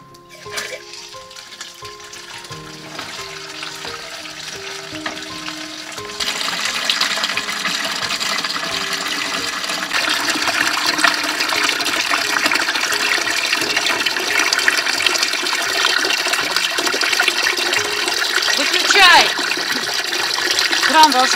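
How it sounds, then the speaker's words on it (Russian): Water gushes continuously from a thawed, burst tap on a farmstead, a loud steady rush that swells partway through and runs on under people talking. "Забыли перекрыть, и размерзся кран."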